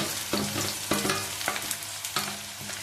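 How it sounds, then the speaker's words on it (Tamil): Chopped onions frying in hot oil in a pan for a lazy-style chicken dish, a steady close sizzle with periodic louder scrapes and stirring strokes roughly every half second, no voices. "நான் இப்போது இந்த வெங்காயத்தை போட்டு ஹாட் ஆயிலே போட்டு வறுக்கிறேன்"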